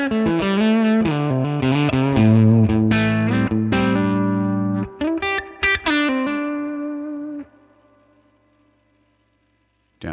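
An electric guitar plays through a Mesa/Boogie California Tweed amp model in Amplitube 5, set to 30 watts, giving lightly distorted chords and single notes that stop abruptly, then ring out and fade to silence.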